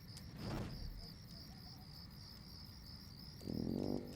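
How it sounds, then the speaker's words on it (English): Crickets chirping in a quiet night scene, a steady high rhythmic trill that repeats throughout, with faint low sounds briefly rising beneath it at the start and end. "all you could hear were the crickets"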